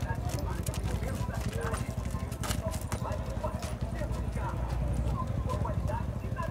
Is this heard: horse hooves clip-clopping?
yes